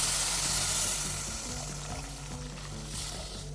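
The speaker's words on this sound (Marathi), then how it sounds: "बटाट्यासोबत एक मिक्स करून घेऊ आणि त्याच्यामध्ये पाणी घालायचं आहे. गरम पाणी आहे." Hot water is poured into a pan of potatoes cooked in oil for a fasting-day potato and peanut curry, making a steady rushing, hissing pour with a light sizzle throughout and no talking.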